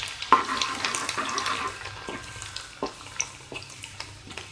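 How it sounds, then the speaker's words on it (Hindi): Chopped garlic fries in oil for a beetroot sabzi, giving a soft, bubbling sizzle. Scattered crackles and ticks pop in unevenly over a low background hum. "इसे भी ब्राउन होने तक फ्राई करेंगे।"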